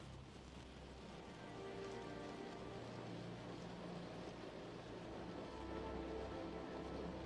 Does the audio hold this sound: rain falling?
yes